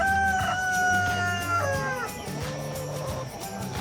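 Seventeen-week-old laying hens cluck and call near the microphone, a few rising, drawn-out vocalizations followed by softer, broken clucks.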